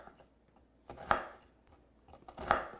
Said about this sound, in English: Now, when you note the way I hold my chef's knife when you're chopping,